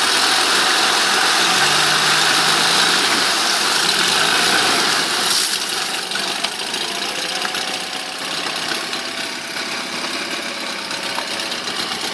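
A 2002 Honda BF 6 hp four-stroke outboard motor idles nearby with a steady, even engine drone. A sharper clunk comes partway through, and the engine keeps running evenly after it.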